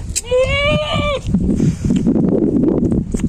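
A goat gives one loud, close bleat, followed by shuffling, rustling noise and faint background voices.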